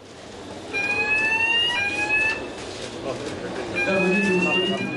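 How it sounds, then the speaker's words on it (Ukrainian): Electronic beeping tones from a radiation detector frame at a border checkpoint, a steady high-pitched alarm sounding in repeated bursts over background noise and voices. "Якщо рамка пищить, це може означати, що людина має радіоактивний предмет"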